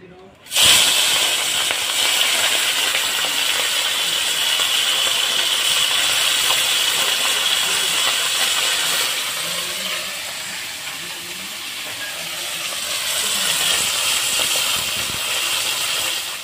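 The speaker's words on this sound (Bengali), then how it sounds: "তেল গরম হয়ে গেছে, এখন আমি মাছটা ভেজে নেব।" Puti fish sizzles loudly in hot oil, a continuous crackling hiss that starts abruptly and holds steady for a long stretch.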